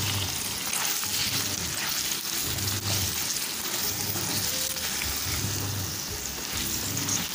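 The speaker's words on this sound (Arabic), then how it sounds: "عندي بصلاية مقطعة شرايح زي ما انتوا شايفين، هنزل بيها على الخليط اللي عندنا. وبرضه هستمر في التقليب" Sliced onions fry in a pan with a sausage mixture for a tongue-shaped pasta casserole, giving a steady, close sizzle with soft scraping stirs throughout and no talk.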